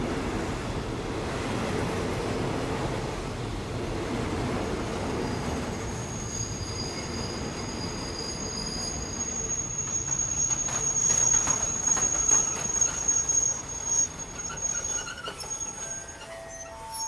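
A train rolls along the rails in a rural Bengal setting, a loud rumbling rhythm of wheels with squealing metallic tones that swell toward the end, while crickets chirp steadily in the background.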